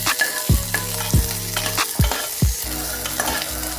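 Cauliflower and beans are stir-fried in a hot pan, a loud steady sizzle punctuated by four or five sharp scraping strokes of a spatula as the vegetables get tossed, with no one speaking.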